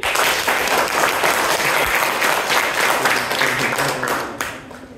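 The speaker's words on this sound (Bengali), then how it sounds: "1 2 3 বলার সাথে সাথে একটা তালি দিবেন জোরে।" An audience applauds loudly on cue after a count of three, producing a dense, sustained burst of clapping that stays even for several seconds before tapering off at the end.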